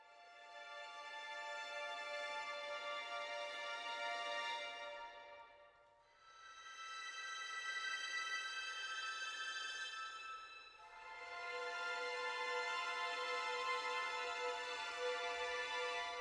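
Spitfire Audio Albion V's Air and Ice string patch plays a thin, airy sustained chord that swells up and fades away three times, bright overtones shimmering above a quiet low end, with no talking.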